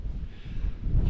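Wind gusting outdoors at High Cup Nick in Cumbria buffets the microphone as a steady low rumble, loud and close, with no talk.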